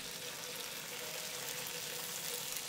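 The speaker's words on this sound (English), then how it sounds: "Place the pork slices in the pan." Pork slices sizzle gently in sesame oil in a pan over medium heat, a soft, steady crackling hiss that continues without a break, with no one speaking.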